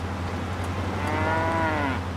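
Cattle in the farming game Pure Farming 2018 give long drawn-out moos that rise and fall, standing out clearly over a steady low machinery hum.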